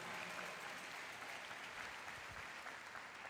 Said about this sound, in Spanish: Un aplauso al liberador, a nuestro Señor Jesucristo.